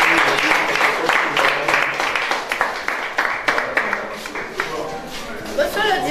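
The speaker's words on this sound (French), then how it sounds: "Merci d'applaudir." An audience applauds at a certificate ceremony for students finishing training at a vocational centre, dense crowd clapping that swells and then slowly thins, with a voice talking over it.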